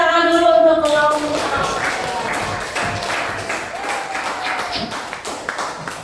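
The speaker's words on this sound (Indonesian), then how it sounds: "Beri tepuk tangan dulu untuk kelompok." A classroom of students applauds a presenting group in a mathematics lesson; steady, moderately loud clapping follows a brief sung or spoken tone and fades gradually over several seconds.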